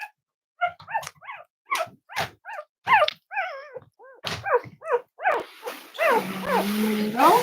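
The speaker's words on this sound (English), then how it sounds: "We're playing with Ron's puppies on the floor." Several puppies yip, bark and whimper in quick, irregular bursts close by on a floor during play, rising into a more continuous whining chorus toward the end, with occasional voices.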